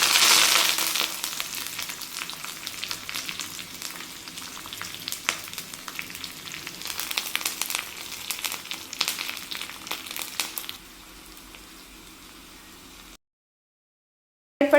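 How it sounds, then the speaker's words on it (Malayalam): Mustard seeds and curry leaves crackle and sizzle in hot oil for a chicken mappas, a dense, steady frying hiss with sharp pops that eases to a quieter sizzle before stopping. "എണ്ണ ചൂടായി കടുക് ഇട്ട് കൊടുത്തു ഇനി അതിലേക്ക് കറിവേപ്പിലയും കൂടെ ചേർത്ത് കൊടുക്കാം"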